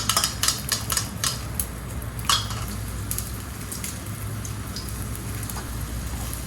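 Crackling sizzle of food dropped into hot oil in a small kitchen, with a few sharp pops and clinks early on settling into a steady hiss.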